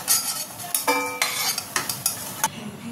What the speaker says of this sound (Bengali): এইভাবেই সবকটা বড়া আমি ভেজে তুলে নেব।